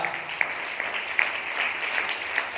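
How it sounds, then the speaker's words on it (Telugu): A church congregation claps steadily in praise during a Sunday service, with continuous, fairly loud applause and a few sharper claps standing out. "చప్పట్లు కూడా దేవుడిని స్తుతిస్తారా?"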